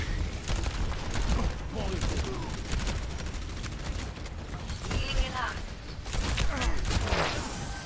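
Baptiste's gun firing in the video game Overwatch: rapid bursts of gunfire crackle continuously alongside mechanical clatter, with a person talking over the shooting throughout.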